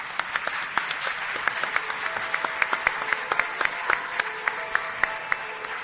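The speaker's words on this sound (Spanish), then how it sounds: "Pido un aplauso para él, por favor." A large audience claps loudly and continuously, with dense, crisp individual hand claps standing out sharply from the sustained roar of applause throughout.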